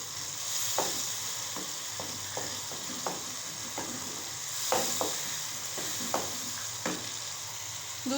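Softened tomatoes are mashed into frying masala in a pan for kofta pulao, with a continuous sizzle and a series of sharp spoon taps and scrapes at irregular intervals.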